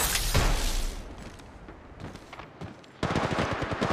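Gunfire in the mobile game Apex Legends Mobile: a loud burst of rapid shots at the start, then quieter scattered shots, then a renewed dense volley close by, with no talking.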